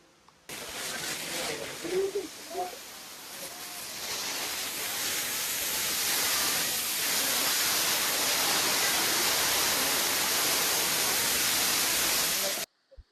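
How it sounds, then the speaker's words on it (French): A waterfall in Bali roars as a steady, loud broadband rush of falling water, close and continuous for about twelve seconds, with faint voices briefly audible near the start. "la cascade, elle est super belle"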